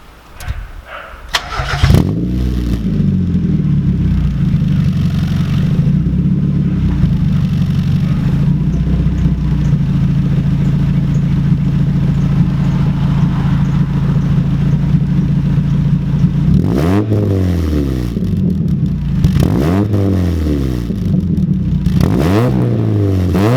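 Mazda Miata engine fitted with Raceland headers starting up, settling into a loud, steady idle close by, then rising in a few sharp revs near the end, each sweeping up and falling back.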